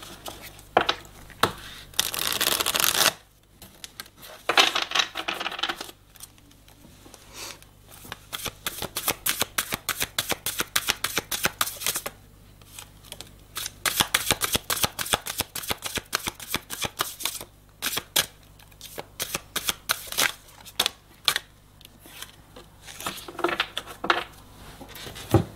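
Tarot cards shuffled by hand, long runs of rapid riffling and flicking that start and stop in bursts, close and crisp, with brief pauses between passes.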